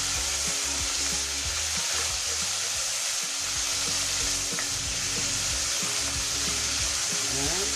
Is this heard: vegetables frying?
yes